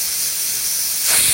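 Pressure cooker whistle releasing steam while cooking dal, a loud continuous hiss that briefly rises into a sharp whistle near the end.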